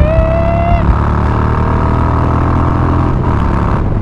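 A Harley-Davidson Twin Cam Softail with a high-power aftermarket cam pulls hard through the revs, its engine roaring loud and steady close by, with a brief whine at the start and wind rush throughout.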